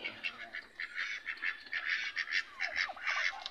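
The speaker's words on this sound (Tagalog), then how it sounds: "Yan ang itik." Ducks on a farm give a rapid run of nasal quacks and honks, several birds calling over one another at close range without pause, fairly faint against quiet surroundings.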